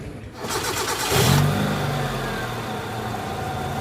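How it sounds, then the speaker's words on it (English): A Proton Satria car's engine cranks, catches and revs briefly, then settles into a steady idle, close and fairly loud. "So now we're gonna start the car."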